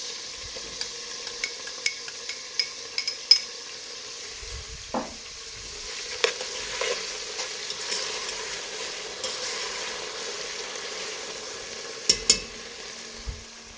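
Garlic frying in a pan alongside browned beef for beef bourguignon, giving a steady soft sizzle with faint stirring and occasional clinks of a utensil against the pan.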